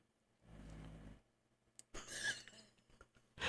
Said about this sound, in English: I really hope you can hear our dog snoring